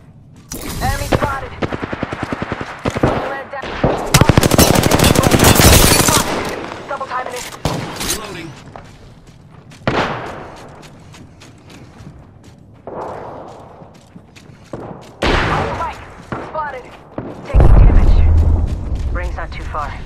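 Bursts of automatic gunfire and booming blasts in the shooter game Apex Legends, loud and dense in places, with a voice talking over parts of the action.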